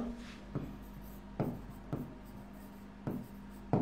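Marker or chalk strokes on a board during a finance lesson, four or five faint, separate scratching taps spaced irregularly across a quiet room, with no talking.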